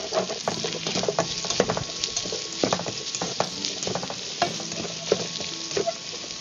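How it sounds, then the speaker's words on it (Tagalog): Ingredients for a rabbit stew sauté in a pot, a steady close sizzle with frequent clicks and scrapes from stirring, and no voices. "By sauteing your ingredient, guys, it will infuse the flavor."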